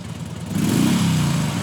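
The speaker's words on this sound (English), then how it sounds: "As the three young men revved up their bikes and sped down the road" Motorbikes ridden by three young men rev up and pull away down a road, a mid-pitched engine note swelling and rising in the second half, fairly close and loud.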